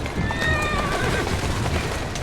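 A horse in Assassin's Creed Syndicate gives one clear, loud whinny with a wavering pitch, close by and over a rumbling background of cart and street noise.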